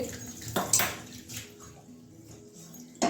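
A metal kadai is set down on a gas stove in a home kitchen, giving sharp metallic clanks followed by softer scrapes and a final clatter, with no speech.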